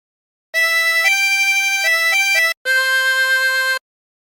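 A 24-hole tremolo harmonica plays a phrase of Amazing Grace in a few held, wavering reedy notes, loud and close, with a short break before the last long note.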